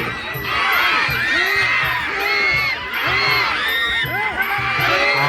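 A loud, unbroken roar of a crowd cheering for boxers at a Thai boxing match, with warbling shouts and tones rising and falling throughout.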